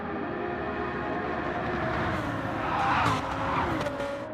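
Rear tyres on a Lamborghini squealing as they lose grip in a racing video game, a sustained screech over steady engine roar that swells toward the end.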